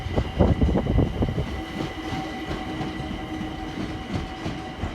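A Class 378 train passes near Stratford, its rolling rumble and clickety-clack of wheels loudest at first, then easing into a steadier, fainter roar.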